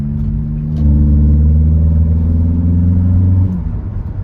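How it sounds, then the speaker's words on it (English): A Honda K24 engine pulls under load, its intake and exhaust rising into a loud, aggressive drone with climbing pitch before easing off near the end, heard close and without talk. "Man, the intake sounds good. Under load."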